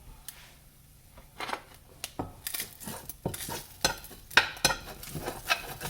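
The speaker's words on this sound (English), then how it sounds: "scrape all of this goodness off the bottom of my skillet" A spatula scrapes the bottom of a skillet after blackened salmon cooking, a series of sharp irregular metallic scrapes and clinks over faint background noise, close and fairly quiet.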